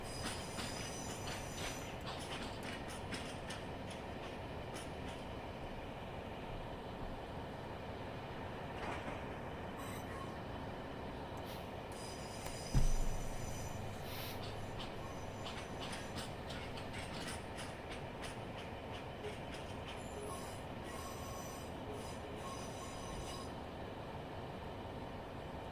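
A train rolls along in a train simulator game with continuous rumbling wheel noise, rhythmic clicks and high wheel squeals, heard quietly and alone, with one heavier clunk midway.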